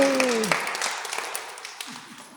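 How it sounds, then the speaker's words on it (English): An audience at a raffle draw during a SAMSAT tour gives a short round of applause that starts strong and quickly tapers off, with a voice briefly heard at the start. "Big round of applause for Miss Dee."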